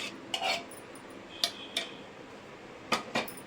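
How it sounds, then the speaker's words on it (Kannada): A spoon mixes mango puree into mango milk sharbat, knocking against the glass vessel. Sharp, close clinks come in irregular pairs over a quiet background, with no talking. "ಮ್ಯಾಂಗೋ ಪ್ಯೂರಿ ಮಾಡ್ಕೊಂಡಿದ್ದೀವಲ್ಲ ಸೊ ಇದನ್ನು ಕೂಡ ಸೇರಿಸ್ಕೊಂಡು ನೀಟಾಗಿ ಮಿಕ್ಸ್ ಮಾಡ್ಕೊಳ್ಳೋಣ"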